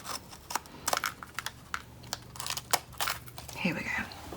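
Scissors cutting across paper strips for a unicorn ornament, a run of close crisp snips and rustles.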